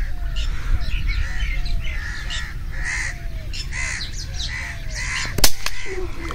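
Crows caw repeatedly in a steady rhythm over a hunting field where airguns are used against rosy starlings, with a sharp crack near the end and outdoor background noise throughout.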